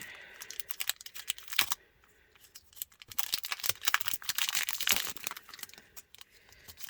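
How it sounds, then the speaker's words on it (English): A sticker kit's plastic packaging from a subscription box is torn open by hand, close up, in crinkling, ripping bursts separated by short pauses, with no talk. "as usual, I have to tear it open"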